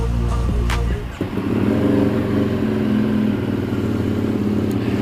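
An EBR 1190RX sportbike's V-twin engine fires up with a brief catch, then settles into a loud, steady, throbbing idle close by with no voices.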